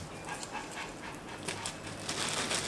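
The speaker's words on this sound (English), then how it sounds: "So my poodle is back." A pet poodle pants in quick, soft, breathy bursts close by, with light household noise in a kitchen behind it.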